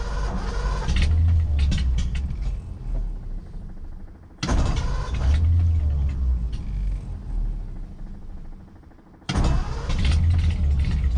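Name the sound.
1930 Ford Model A engine starting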